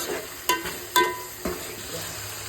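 Chicken pulao cooking in gravy in a pot, giving a steady soft bubbling sizzle with three distinct clinks of a stirring spoon against the vessel.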